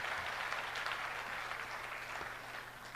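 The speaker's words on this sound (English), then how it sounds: "Can I please ask all of you to give a big round of applause to all the 167 applicants?" Audience applause at the Bangladesh Investment Summit 2025 honouring 167 applicants: a steady wash of clapping from a large crowd, fairly distant and even in level throughout, with no voices on top.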